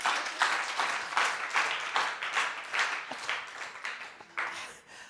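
Church congregation in Moscow clapping together in a burst of applause, fairly steady rhythmic claps over about five seconds with a few murmured voices, fading slightly toward the end.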